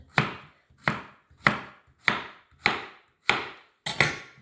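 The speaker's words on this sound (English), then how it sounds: "And now I'm literally just going to slice it." A knife slices through a vegetable on a chopping board for kebabs, seven crisp evenly spaced chops, close and clear with nothing else.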